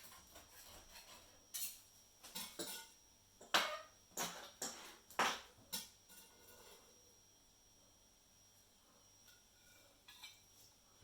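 A sharp knife scrapes and taps against a plate or board while cutting chicken skin for teriyaki, about a dozen crisp metallic clicks in an uneven cluster, close and quiet, with no talking.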